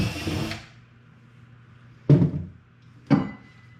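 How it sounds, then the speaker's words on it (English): A power drill with a finder bit bores a small hole inside a dark wooden cabinet: one longer burst followed by two short, loud, close bursts separated by quiet gaps. "Use this drill bit as a finder bit"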